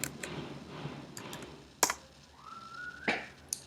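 Keys clicking on a computer keyboard while a command is entered into a terminal during Laravel setup work, a few scattered soft taps with a couple of sharper strokes, quiet and close with no talking.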